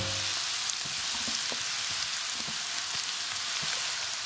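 Quartered onions and apples, blitzed, cooking gently in a pan with butter and olive oil, giving a steady soft sizzle and crackle with scattered small pops, fairly quiet and continuous without talk.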